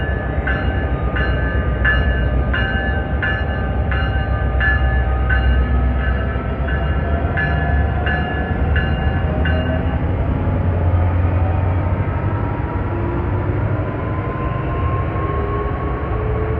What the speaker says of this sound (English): you can hear that EMD prime mover, but they aren't quite nearly as thunderous as the Jeeps